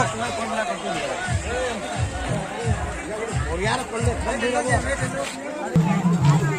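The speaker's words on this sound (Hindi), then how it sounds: "बहुत भीड़ छ देखि पर दो" A dense crowd bustles at a Navami Dussehra festival square in Kuchinda, with a murmur of babble behind someone talking close by.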